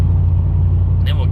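A RAM 1500 Hemi cruising on the highway with its exhaust cutout closed gives a steady, muted low engine drone with road rumble, and a brief faint higher noise near the end.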